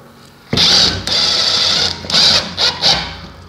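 A power screwdriver drives screws quickly into metal profiles while a decorative wall is built, several short bursts of high whirring that start and stop in quick succession, close and loud, with no speech over them.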